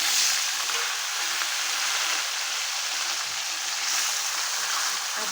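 Sliced potato and bitter gourd frying in hot oil, a loud, steady sizzling hiss that runs unbroken from start to finish with no talking.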